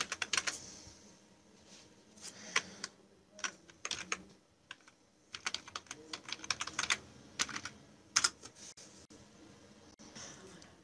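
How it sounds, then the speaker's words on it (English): Quiet, irregular runs of keystrokes on a computer keyboard as a master password is typed into Kaspersky Password Manager, clicking in short bursts with brief pauses and no talking. "So you enter here your password, master password."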